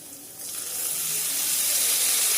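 A loud, steady sizzling hiss rises sharply and keeps going as lemon juice is poured into a hot pan for lemon rice and steams.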